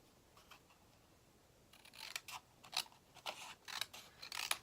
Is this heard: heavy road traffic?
no